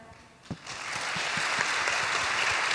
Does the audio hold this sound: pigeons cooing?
no